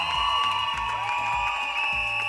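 A studio audience at the final of a children's TV talent show applauds and cheers over steady music, with faint continuous clapping and crowd noise behind a thumping beat.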